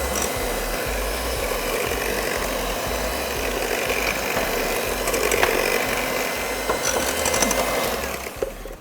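Cake batter is whipped in a bowl by an electric mixer, giving a steady close motor whir with a rattling beater texture that carries on without a break and rises slightly near the end.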